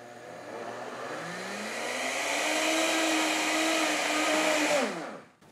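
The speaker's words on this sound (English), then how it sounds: "I'm going to blend this until the sugar breaks up and becomes super fine." A blender grinding sugar until super fine whirs steadily, its pitch rising as it spins up and holding high before cutting off abruptly at the end.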